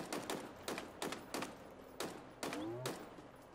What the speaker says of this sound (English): What the heck is shooting at me now?